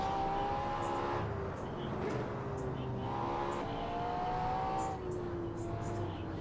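Engine noise from a car driven in the Assetto Corsa racing game, revving up and dropping through gear changes in a continuous drone, with a voice talking over it.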